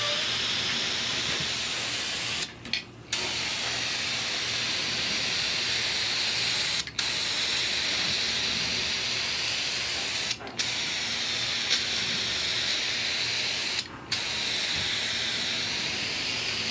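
Continuous broadband hiss of gloss black spray paint being sprayed onto a cabinet, steady and close, broken by a few short pauses between passes.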